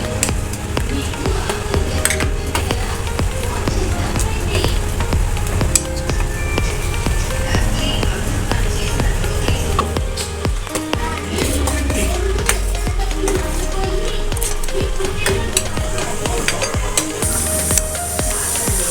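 Tamarind pulihora mixture is stirred continuously in a pan on the stove, a steady close sizzle with a dense bubbling hiss and frequent spoon scrapes and clinks against the pan, with no talking.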